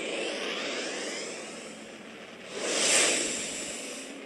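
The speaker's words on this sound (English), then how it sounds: "Starting warp engine." Warp engine starting up in the space game Second Galaxy, a broad airy whoosh that holds steady, then swells louder near the end, with no voices.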